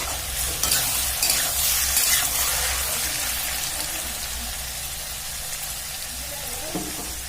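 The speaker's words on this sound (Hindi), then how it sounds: "अब प्याज आलू दोनों को हम अच्छी तरह लाल कर लीजिए।" Chopped onions and potatoes fry in hot oil with a dense, continuous sizzle, stirred now and then. The sound stays close and steady throughout, with a faint voice in the background.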